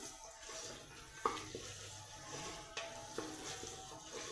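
Mutton fat frying in oil for a mutton biryani, a steady sizzle broken by a few sharp clinks and scrapes of a stirring utensil against the pot, close and moderately loud with no talking.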